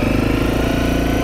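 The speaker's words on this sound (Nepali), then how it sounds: "त्यो बाइकले मलाई नि डिस्टर्ब गर्छ जस्तो" A motorcycle engine runs close by in a loud, steady rhythmic throb with a fast pulsing beat, heard on a practice ride on a muddy trail.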